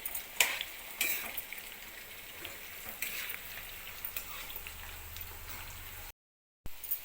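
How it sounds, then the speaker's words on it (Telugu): Bitter gourd pieces frying in hot oil on a medium flame, giving a faint, steady sizzle with light crackles and a few soft clicks. "ఆయిల్ వేడెక్కిన తర్వాత ఫ్రై చేసి పెట్టిన కాకరకాయ పీసెస్ ఇంట్లో వేసేసుకుందాం"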